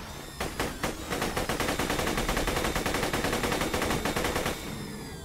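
Rapid automatic fire from an assault rifle in Borderlands 2, a loud sustained burst of closely spaced shots lasting several seconds after a couple of opening rounds, with no talking.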